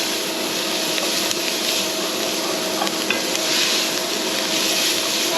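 Onions sweating in a hot pan with beef juices and browned bits for a steak and cheese pie, giving a steady, even sizzle with light stirring scrapes, close and continuous without talk.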